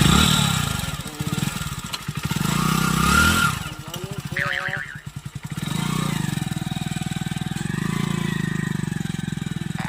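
A motorcycle engine with a fault idles and revs nearby, a rough, pulsing drone that dips and chugs unevenly, with voices talking over it at times.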